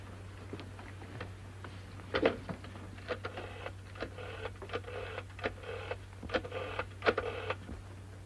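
A telephone being dialed in a 1936 drama, heard as a series of soft, irregular clicks and ticks over a steady low mains hum, with no voices.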